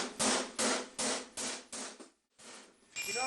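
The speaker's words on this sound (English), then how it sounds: "use a hammer to turn the edge" Hammer turning the edge of a steel plate hooked over the point of a bighorn anvil while forging a 14th century barrel helm: six loud, sharp metallic blows in a steady rhythm, a brief pause, then another strike.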